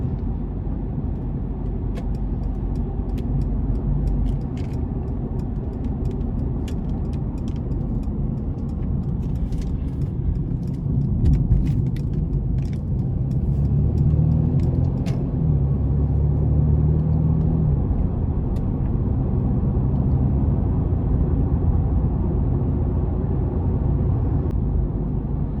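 Steady low engine rumble and road noise inside a 2017 Mercedes-Benz C300 Sport on a test drive, the tone swelling briefly midway as it shifts and accelerates, with faint ticks over the drone.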